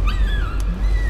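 A dog in the horror game Layers of Fear lets out a short, high, wavering whimper, brief and close, with a faint higher yelp riding over it.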